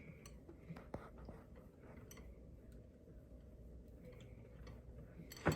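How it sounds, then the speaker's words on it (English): A spoon stirs hot water cornbread batter in a pan, making faint, irregular clicks and scrapes against the metal, with a sharper knock near the end. "So we'll go ahead and begin to stir this."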